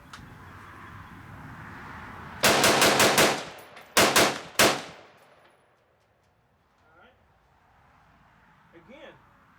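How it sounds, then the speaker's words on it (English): An AR-15 rifle dumps its magazine: a loud, rapid string of about six shots, then a short pause and two or three more, followed by quieter rustling. "I'm going to try to just go ahead and just dump the mag."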